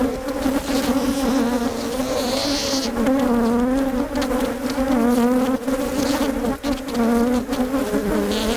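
Bees of a young, healthy honeybee colony on yellow comb during bee vacuuming, a dense, loud, continuous buzzing drone that wavers in pitch and stays close throughout.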